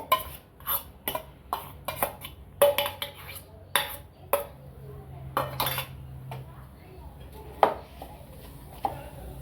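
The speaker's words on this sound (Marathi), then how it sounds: "आपण अगोदर गूळ टाकू आणि गूळ कवट टाकून चांगलं परतून घेऊ" Jaggery and kaut (wood apple) fruit clatter in a pan as a utensil stirs and fries them, giving irregular close scraping and clinking knocks at a moderate level, with a quiet voice now and then.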